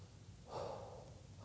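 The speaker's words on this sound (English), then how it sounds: "Proper diaphragm breath, if I'm sitting straight up." A slow diaphragm breath taken while sitting upright, heard as a soft, airy inhale swelling in the middle and easing off, close and quiet with no talking.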